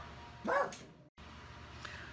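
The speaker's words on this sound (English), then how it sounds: "it wouldn't be an episode if we didn't have to stop for Watson's barking" A dog barks once or twice in a short, loud burst indoors while knitting is paused, then the room drops back to a quiet background hum.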